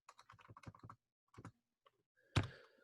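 A burst of quick keystrokes on a computer keyboard is followed by a pause, a few more taps, then one louder clack, close and quiet.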